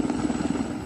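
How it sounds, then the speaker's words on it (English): A military helicopter airlifts wounded soldiers from a military base, its rotor making a steady, rapid low thumping at moderate distance with no talk. "some lifted out by a chopper"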